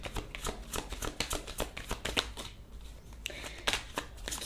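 A deck of tarot cards is shuffled by hand in a quick series of close, papery riffles and slaps, fairly steady rhythm with a brief lull midway, no clear speech.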